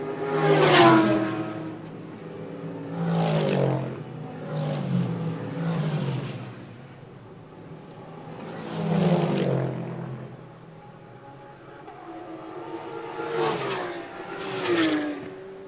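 Race cars at the South African 9 Hour Endurance race scream past one after another, each engine rising and fading as it passes, in about five distinct passes over a quiet gap.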